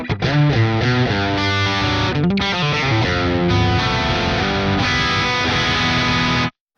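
A crunchy, lightly distorted electric guitar plays a chunky riff with chords and single notes, loud and dry, then stops abruptly.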